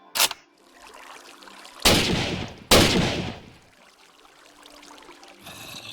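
Gun reloading and firing in a Minecraft gun mod: three sharp gunshots, one at the start and two close together near the middle, each with a short decaying tail, over a low steady hum and faint reload clicks, no talk.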